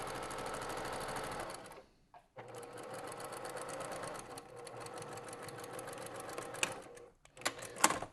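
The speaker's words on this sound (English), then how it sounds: "I'm basically going to baste stitch this triangle here from the corner up to the point" A sewing machine baste-stitches a fabric triangle for a homemade pot holder, running in a fast steady mechanical rattle close by, pausing briefly, then resuming with a few louder clunks near the end.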